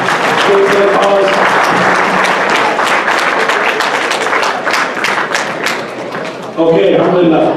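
An audience applauds a supporter at a fundraising event in Surrey with loud, dense clapping and some thumps, tapering briefly before a voice and music cut in near the end.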